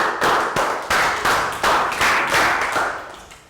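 Classroom of young pupils giving a rhythmic round of applause, a patterned series of about seven loud, close group claps in steady time, with no talking.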